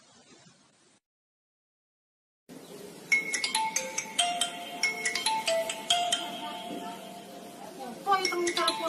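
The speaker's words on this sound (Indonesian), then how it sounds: "Apa itu telepon?" A phone ringtone plays a repeating melodic pattern of bright electronic beeps for several seconds. It starts after a short stretch of silence and is moderately loud.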